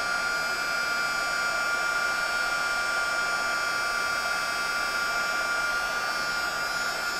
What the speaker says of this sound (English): you can see how quickly that's melting now because the heat tool had a chance to heat up